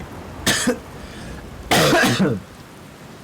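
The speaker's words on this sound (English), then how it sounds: "I've got a cough, a terrible cough" A person coughs twice, a short burst followed by a longer, harsher fit, close up with no talking.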